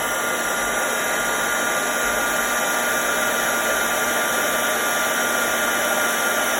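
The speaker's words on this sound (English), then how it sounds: "make sure that the heat tool warms up a bit before putting it on the embossing powder" A heat tool blows steadily over embossing powder, a constant loud whooshing hiss of hot air with a faint motor hum, unbroken and close throughout.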